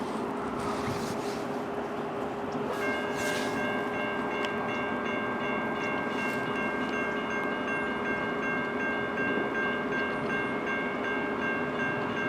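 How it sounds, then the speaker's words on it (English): A CN train passes the Emmett, Michigan grade crossing, a steady loud rumble of rolling cars with crossing bells ringing throughout, nearby and unbroken with no talking. "Yeah, it's a bright number train."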